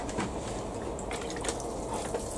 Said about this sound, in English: I'll give these another watering while they're here